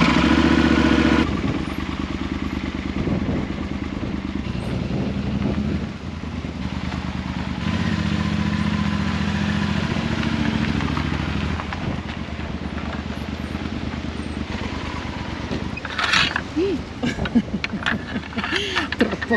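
Motorcycle engine in remote Patagonia, idling as a steady loud rumble close by, with clatter and a few revs near the end, and a voice talking over it.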